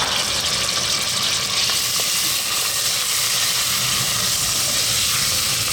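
Chili, curry leaves, onion, garlic and ginger frying over lively heat in a Sri Lankan chicken potato curry, a loud, continuous hissing sizzle that stays steady throughout.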